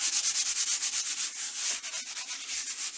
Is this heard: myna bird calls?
no